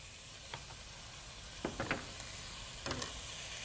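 Garlic fries in a pan as a base for shrimp pasta. A faint, steady sizzle carries through, broken by a few soft stirring scrapes and clicks.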